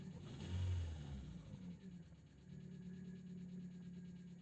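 A car engine revs up as the gas pedal is pressed, a mid-pitched rumble that swells briefly, eases, then settles into a steady drone, moderately close and without talk.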